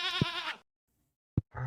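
Goats in the Stardew Valley video game give a loud, wavering bleat, then fall silent before a short second bleat begins, each call close and clear.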